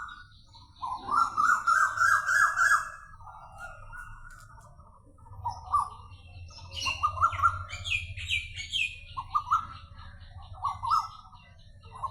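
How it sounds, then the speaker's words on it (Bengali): In spring, various birds sing and chirp for about twelve seconds in overlapping, repeated phrases. Rapid trills alternate with higher, sharper calls over a faint low rumble, with no talking. "বসন্তকালে অনেক পাখির প্রজন শোনা যায় বিভিন্ন পাখির"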